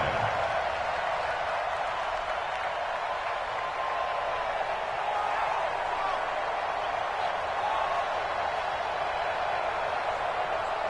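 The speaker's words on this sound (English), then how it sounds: "The crowd here in the Dome making things difficult" Steady crowd roar fills an indoor dome during a football game between the Falcons and Saints, a continuous loud wash of cheering and noise with no breaks, heard alone without clear talk.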